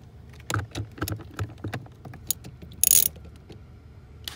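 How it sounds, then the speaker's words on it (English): A socket wrench ratchets in a quick series of clicks while removing plastic bolts under a Mercedes gas pedal, close and distinct, followed by a brief sharp rattle. "I'm going to use a socket wrench."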